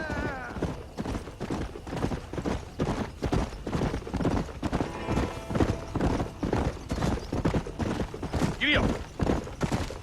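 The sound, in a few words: horse galloping, from video game Red Dead Redemption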